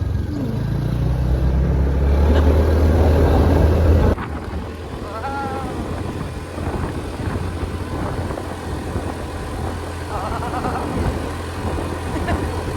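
Motorcycle engine straining on a rough, frightening road in Dasol, Pangasinan, a loud steady drone that drops in level partway through and continues as a rumbling hum, with faint voices underneath.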